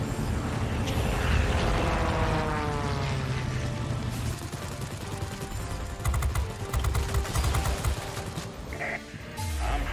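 Tier 1 propeller aircraft in World of Warplanes fly with a dense, loud engine drone and whine that shifts in pitch, overlaid later by rapid rattling bursts of gunfire, sustained and close throughout.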